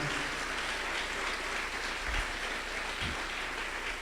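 Congregation applauding in a church service, a steady wash of many hands clapping at moderate distance, sustained and even throughout with no talk over it.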